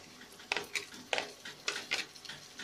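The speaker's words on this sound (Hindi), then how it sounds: "इन सभी तड़कियों को हम थोड़ी देर तक भून लेंगे पहले।" Cumin, asafoetida, green chilli, ginger, garlic and onion fry in hot oil for a vegetable tahari, with a soft sizzle under repeated sharp clinks and scrapes of a spoon stirring against the pan.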